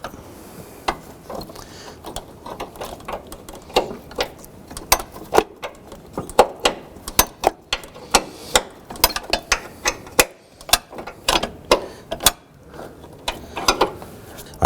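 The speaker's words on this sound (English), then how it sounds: "we're using a box wrench on this" A 14mm box wrench works a transmission mount bolt on a 2007-2011 Honda Civic, giving a close series of sharp metallic clicks and knocks in an irregular but rapid rhythm against faint background noise.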